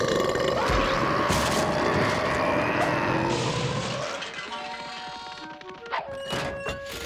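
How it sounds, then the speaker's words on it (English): Cartoon baby giving a long, loud burp with clattering and thumping comic sound effects, followed by brief voices. "Now baby needs to burp."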